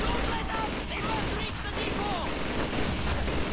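Machine gun fire in the video game Call of Duty 2 rattles as dense, continuous bursts throughout the short stretch, with distant battle noise mixed in.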